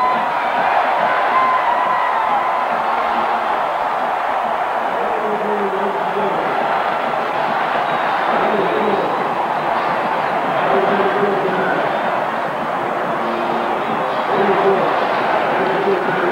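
A packed college football stadium crowd roars and cheers steadily as the clock runs out on LSU versus Alabama in 1990, a loud sustained wall of celebration with whoops and shouts.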